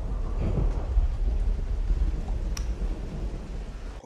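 A steady wash of rain with low rumbling thunder rolls continuously through a storm, with a brief high crack partway through, and no voices.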